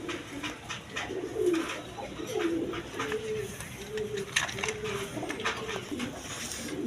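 A pair of big native Golla domestic pigeons coo near at hand, repeated rolling throaty calls following one another over steady background noise, with no voices.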